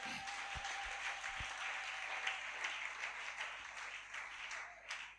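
A church congregation claps together in a sustained round of applause, steady and moderately distant, with a few sharper individual claps standing out.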